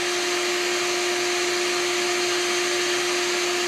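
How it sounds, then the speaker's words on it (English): A bee removal vacuum sucks up a swarm of bees, putting out a loud, steady whine with a constant hum tone that runs unbroken throughout and no voices. "They're all going inside of our Bee Green vacuum."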